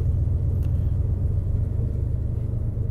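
Low, steady rumble of a car engine idling around 1000 RPM during engine tuning, a continuous even drone close to the listener with no revving.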